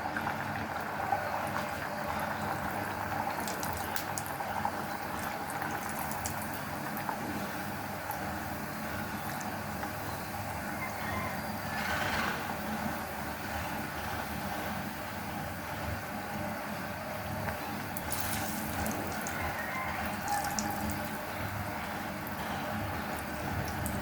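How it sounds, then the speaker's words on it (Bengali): Puri deep-fries in hot oil with a steady, dense sizzle and bubbling that runs unbroken throughout, close and fairly loud, broken only by a couple of brief brighter crackles. "এখন পুরি দিয়ে দেব ভাজার জন্য।"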